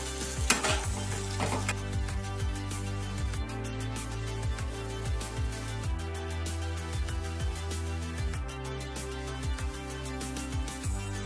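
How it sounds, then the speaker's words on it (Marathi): A spoon stirs sambar with tomatoes and jaggery in a home kitchen pan, giving repeated scraping and clinking strokes over a steady background hum, close and fairly quiet. "हलवून घेऊ छानसा."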